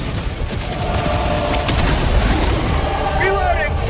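Loud, dense battlefield din from the video game Helldivers 2, with orbital strike explosions and gunfire-like blasts rumbling continuously, while voices shout over the chaos.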